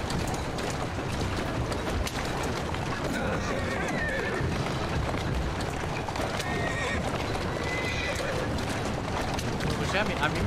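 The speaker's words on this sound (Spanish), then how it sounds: "¿Quién es un buen caballo?" A horse whinnies in Assassin's Creed Syndicate, with clip-clopping hooves and a constant busy ambient bed running throughout, and a voice talking over it.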